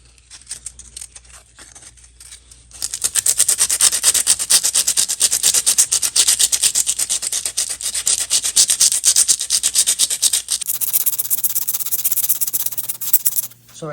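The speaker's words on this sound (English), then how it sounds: "So we'll start using the 60 grit and try to get the remainder of most of these deep scratches out." Hand sanding deep scratches out of a 2003 Yamaha R1 motorcycle fairing with 60 grit sandpaper: a steady, loud, close rapid rasping scrub running continuously for most of the stretch, with no talking.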